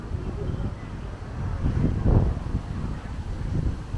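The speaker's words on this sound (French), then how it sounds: "Il y a du vent." Gusty wind on a balcony in Sicily buffets the microphone in low rumbling surges, swelling louder around the middle before easing off.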